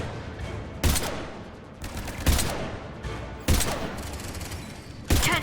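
Gunfire in the video game Mass Effect 3, four loud bursts of shots spaced about a second apart over a continuous bed of battle noise, with no talk.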